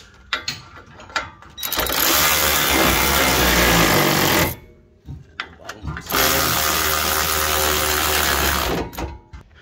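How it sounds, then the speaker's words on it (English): Power tool runs down 19 mm bolts on a front Brembo brake caliper of a 2006–2011 8th-gen Honda Civic Si, two loud sustained buzzing bursts of a few seconds each separated by short pauses and small clicks. "these will be 19 mil to tighten down. So I'm gonna go ahead and tie these down."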